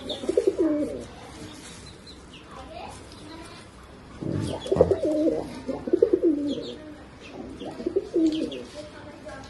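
Pigeons coo in soft, repeated throaty bursts close by, with a few chirps, while a person talks in between the calls.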